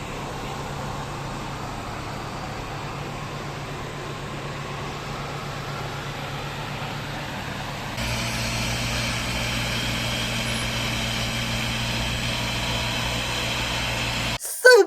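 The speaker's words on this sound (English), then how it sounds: "And here is a tram track cleaning machine." Tram track cleaning machine in Stockholm, a steady droning engine hum that grows louder and fuller midway, running alone at moderate distance.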